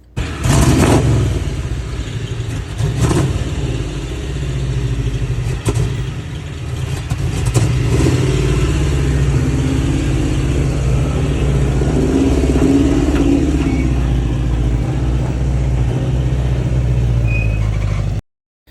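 A 1979 Chevy K10 4x4 farm pickup truck engine runs steadily close by, a loud low rumble holding throughout with brief revs, and no talking.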